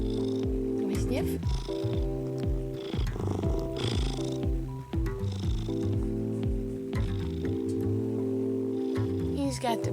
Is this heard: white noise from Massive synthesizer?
no